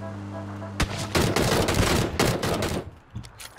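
A burst of rapid gunfire from shooting enemies in the video game PUBG runs for about two seconds, loud and close, followed by a few scattered single shots, with no voices over it.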